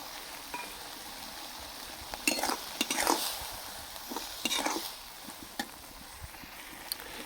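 Spoon stirring ground poppy seed paste into cooked Malabar spinach greens in a pan, a few soft scraping and wet mixing bursts over quiet background hiss.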